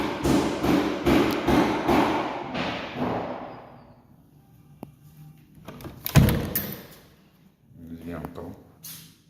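The lock of an entrance door to an office that doubles as a bedroom clicks and rattles through a run of close metallic taps, then a heavy thud as the door opens, with a voice speaking over part of it.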